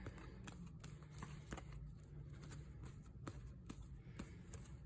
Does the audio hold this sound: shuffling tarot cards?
yes